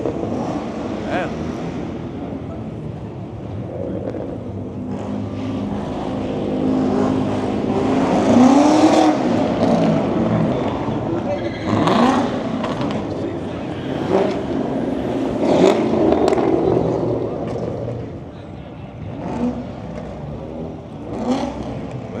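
At a late-night rooftop car meet, a car revs and swings hard around a corner. The engine roars in a sustained, swelling rumble with some wind buffeting, and people talk over it.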